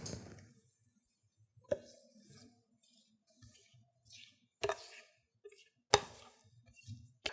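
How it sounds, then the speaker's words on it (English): A spatula scrapes spiced wacky cake batter, made without eggs, butter or milk, out of a bowl into a baking pan: quiet, soft squishy scrapes broken by a few sharp knocks against the bowl. "I've got a spatula to help scrape it all out right into our pan"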